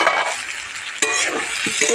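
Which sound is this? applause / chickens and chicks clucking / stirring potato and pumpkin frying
stirring potato and pumpkin frying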